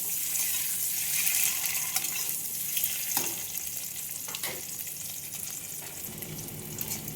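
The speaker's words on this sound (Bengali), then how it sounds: "একদম লো ফ্লেমে আস্তে আস্তে ভেজে নেব।" Two eggs fry slowly in a pan over a low flame, giving a steady, moderately loud sizzle and crackle that runs unbroken, with a few brief scraping touches near the end.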